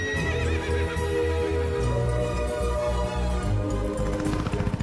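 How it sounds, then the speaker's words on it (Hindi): A horse neighs loudly and close, a long whinny over rhythmic clip-clopping hooves, and the hoofbeats continue as the call fades out. "घोड़े पे सवार होकर आएगा।"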